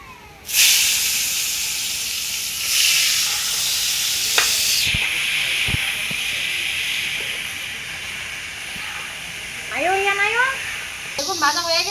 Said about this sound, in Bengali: বেগুনগুলো আমি একটু ভাজাতে নেব।